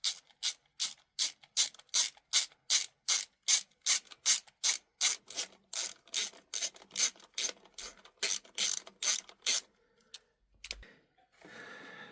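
A ratchet undoes the bolts holding the coolant pump to the engine block of a Ford Mondeo ST220, about two dozen sharp, evenly spaced clicking strokes close up, ending with a few fainter rattles and a soft clunk.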